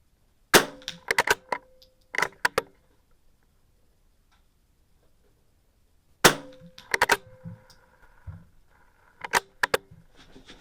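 Sharp .22 rifle shots at steel targets in an NRL22 match stage come in two clusters, each shot a crisp crack followed by a quick metallic ping from the target, with a quiet pause between the bursts and no talking.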